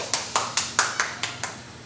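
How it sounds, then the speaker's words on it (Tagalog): Applause from a class during a virtual Grade 9 Araling Panlipunan lesson: seven sharp claps at an even, unhurried pace, fairly faint, with no voices. "Bigyan ng masigabong palakpak ang bawat isa."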